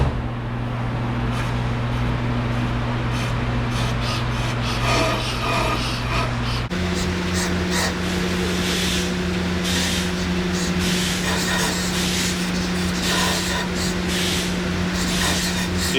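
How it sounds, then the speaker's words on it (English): On a brake lathe, a worn lip is cut by hand from the edge of a brake rotor. The machine gives a continuous scraping, rasping cut over its steady running hum, and the motor pitch shifts partway through. "I'm going to manually cut away the lip that's worn into the edge of the rotor."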